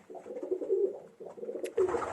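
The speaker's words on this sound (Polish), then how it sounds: "przeglądam sobie tutaj moje gołąbki" Pigeons in a loft coo softly in a couple of low, throaty rolling phrases, close and faint, with a brief rustle at the end.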